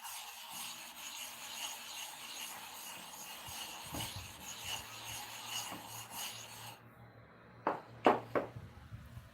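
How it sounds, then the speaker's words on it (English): A worn clipper blade is sharpened under light pressure, giving a quiet, continuous rasping rub with occasional scrapes and a few louder knocks near the end. "That is why I'm saying to sharpen clipper blade step by step."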